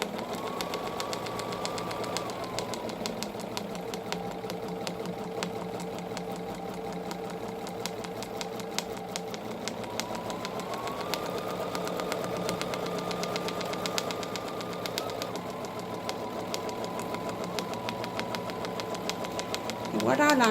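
A Bernina sewing machine stitches curved crosshatching guided by a 3 inch round ruler, a rapid mechanical whir with rising and falling speed that runs steadily beneath someone talking throughout.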